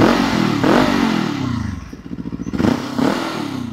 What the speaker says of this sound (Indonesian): khas mesin 2 silinder parallel twin